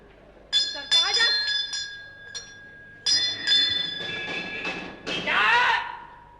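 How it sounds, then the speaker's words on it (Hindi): Several bright bell rings, short and sharp, sounding in quick bursts with clinks and thumps between them and a noisy rush near the end, on a stage amid a comedy performance. "लानत देने के लिए घंटी बजाता हूँ"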